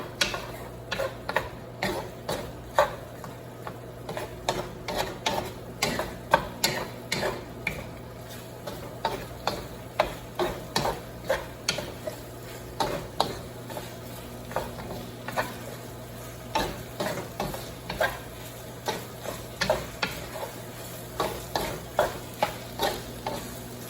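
Shrimp sizzle steadily in a hot pan while a utensil stirs and scrapes in a brisk, regular rhythm of clicks and taps, close up and with no talking.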